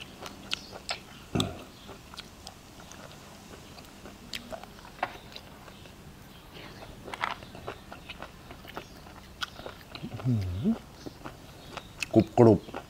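Someone chews crunchy cooked clams with a jaew chili dip close to the microphone, making scattered crisp bites and mouth sounds with quiet gaps between them. Louder chewing bursts come near the end, and a voice may be present.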